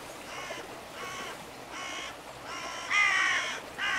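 Crows give a series of harsh caws over reeds, about five calls spaced at roughly even intervals, moderately distant and clear against a quiet outdoor background.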